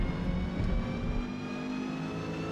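A Renault 8 Gordini race car in Forza Motorsport, its engine droning loud and steady as it accelerates in a D class race at Homestead Miami, with no voices.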